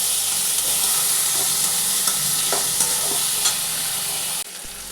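Garlic, tomato and ginger sizzling loudly in a frying pan, a dense, continuous hiss with faint stirring scrapes that drops off suddenly near the end.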